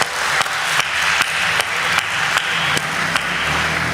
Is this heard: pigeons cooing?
no